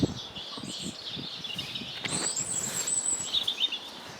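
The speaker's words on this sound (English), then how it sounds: "it's much nicer walking around with this the bird song and not the noisy aeroplanes going overhead" Small birds chirp and twitter in a garden in February, faint high calls scattered over quiet background rustle.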